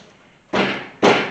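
Two heavy thuds land about half a second apart, close and loud, as the door of a 1991 Chevy C1500 GMT400 pickup is shut.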